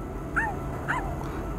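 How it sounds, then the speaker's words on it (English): Dog barking in the Crayon Shin Chan: Arashi wo Yobu Cinema Land DS video game, two quick high-pitched yips close together over a steady noisy game background. "I kinda love Shiro barking."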